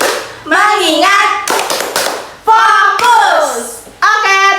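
Children in a fifth-grade primary classroom perform the 'tepuk fokus' clapping routine, bursts of sharp handclaps spaced between chanted words. The voices chant loudly up close.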